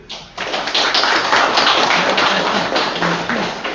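Audience at a public political rally in Meghalaya breaking into applause, a dense, loud wash of many hands clapping that rises abruptly and holds steady throughout, with no talking over it.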